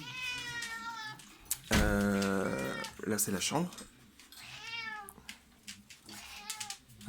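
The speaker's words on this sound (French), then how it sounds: "Et donc le chat." A house cat meows several times, rising and falling, close by during a home tour, with one louder drawn-out yowl among them, while people talk in French around it.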